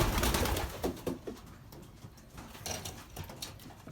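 Racing pigeons coo softly close by in a loft, low repeated calls with some shuffling and rustling in the enclosed space.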